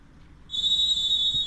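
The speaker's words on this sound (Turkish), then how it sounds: "İlk yarının son düdüğü çalıyor." A single long, shrill referee's whistle ends the first half of a youth football match, sounding loud and steady over a low stadium murmur.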